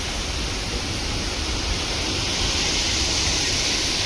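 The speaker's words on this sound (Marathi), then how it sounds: "प्रेशर बघा पाण्याला, एकदम खालपर्यंत घेऊन चालला." High-pressure mountain water rushing down a slope beside the Kedarnath trek trail, near a fresh landslide; a loud, steady broadband roar with no breaks, heard up close for the whole stretch.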